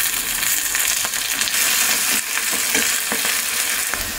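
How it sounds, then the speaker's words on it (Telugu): Gongura leaves dry roasting in a pan without oil, giving a steady close crackling sizzle with scattered stirring scrapes throughout, no voices. "ఇప్పుడైతే నూనె అక్కర్లేదు, డ్రైగా వేయించుకున్నా కూడా సరిపోతుంది."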